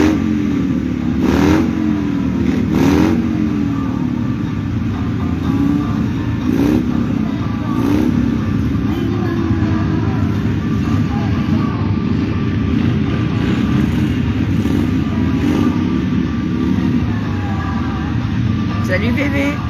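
Race car accelerating at the Sougy 2025 motorsport event, a loud continuous engine roar with rising and falling pitch sweeps, heard under steady talk throughout.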